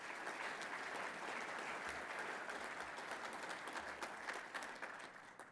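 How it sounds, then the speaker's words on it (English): Steady audience applause for Maryland's professional firefighters at a public event, a dense even wash of many hands clapping that carries on without a break and stays fairly distant. "Let's give them a round of applause."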